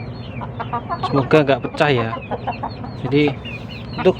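A chicken clucks close by in short bursts while a person talks over it.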